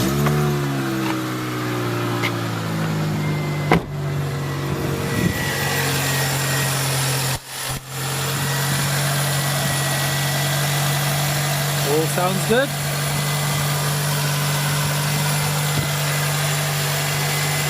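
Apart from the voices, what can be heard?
car engine starting and idling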